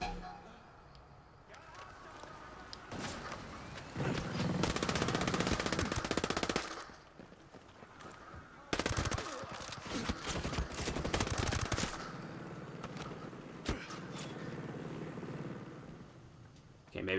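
Gunfire in the video game Ghost Recon Breakpoint, with rapid automatic bursts and sharp shots in two dense stretches separated by quieter gaps, up close and loud.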